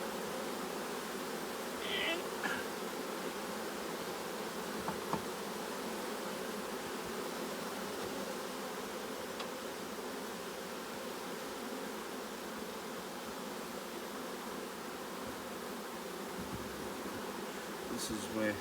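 Bees buzz around an opened beehive on a regenerative farm, a steady, low, continuous hum of many insects close by, with faint handling rustles and no talking.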